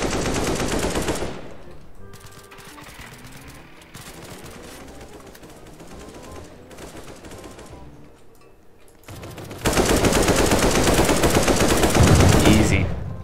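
Automatic gunfire in the online game Anomic, with loud sustained bursts at the start and end of the clip and quieter game sounds in between.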